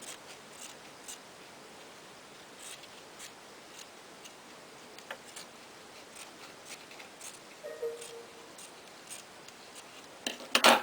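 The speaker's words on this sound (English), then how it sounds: "After the glue has dried, you're just going to trim away the excess fabric." Scissors snipping excess fabric from a glued fabric rosette, a series of quiet, sparse clicks and cuts against a faint background hiss, with a louder rustle at the very end.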